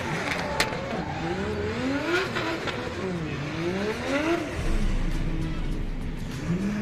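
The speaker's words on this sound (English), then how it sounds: "we can see Justin Patterson is warming up the tyres, getting ready to take on Sam Edinberg." A drift car warming up its tyres at a DriftWars event at Manfeild, engine revving up and down in repeated swells, heard at some distance under an announcer's commentary.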